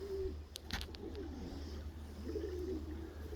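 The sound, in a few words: pigeons cooing in a loft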